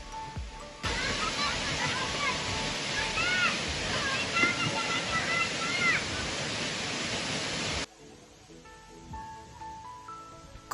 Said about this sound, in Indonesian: berenang atau sekedar berendam di bawah aliran air terjun